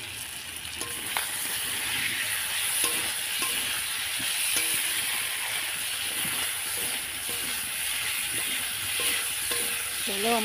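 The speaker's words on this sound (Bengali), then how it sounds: "এই যে আমি নারকেল পাতা জাল দিয়ে রান্না করতেছি।" Meat sizzles and fries in a pan over a coconut-leaf fire, with a steady dense hiss throughout and occasional stirring scrapes, close and loud.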